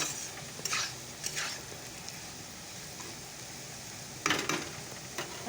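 Potatoes frying for crispy aloo bhaji give off a faint, steady sizzle, broken by a few soft scraping stirs of a utensil in the pan.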